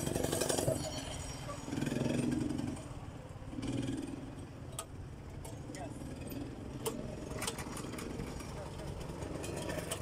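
A go-kart engine pull-started at a karting track catches and runs with a steady buzzing drone throughout, with bursts of louder sputtering early on and voices talking over it.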